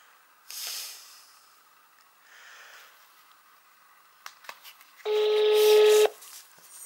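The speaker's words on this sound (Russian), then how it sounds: "Пора позвонить Евкакию" A telephone is dialed: a few soft clicks and faint beeps are followed by one loud, steady tone lasting about a second, close by in a quiet room.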